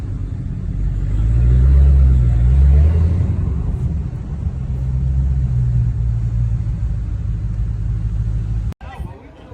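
Car engines rumble at a Mopar car meet, a deep, steady low growl that swells and eases as cars idle and roll nearby, with a person talking over it before an abrupt cut near the end.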